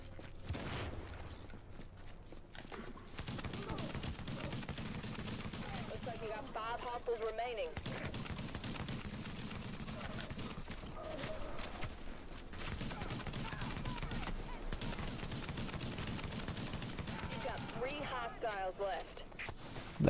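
Rapid automatic gunfire from The Division video game, dense bursts of shots rattling in long stretches with brief gaps, fairly quiet overall, while someone talks over the action.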